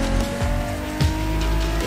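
A car in the racing video game Motorfest, driven with a wheel on PC: a steady engine drone with tires squealing and skidding through a turn, loud and close throughout.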